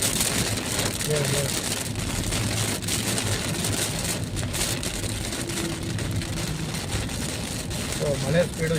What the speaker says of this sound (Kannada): ತುಂಬ ಸ್ಪೀಡಾಗಿ ಮಳೆ ಬೀಳ್ತಾ ಇದೆ.